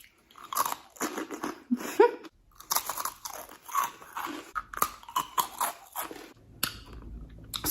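Sweet gummy candies being chewed right by the mic, with irregular bursts of wet, squishy mastication and small crunchy bites, close and fairly loud, with no talking.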